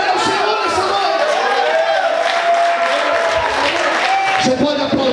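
Congregation applauding and cheering during an evening church service, a dense, sustained wash of clapping and crowd voices with shouts and a singing or preaching voice riding over it throughout.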